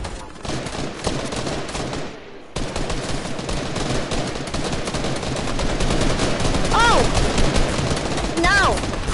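Attacking bots in a video game fire rapid, continuous automatic gunfire, loud and dense for most of the stretch after a brief gap, with a few whistling, sweeping tones near the end and some talking mixed in.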